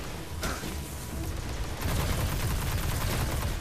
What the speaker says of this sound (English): the recoil on this gun is really bad as well until I upgrade it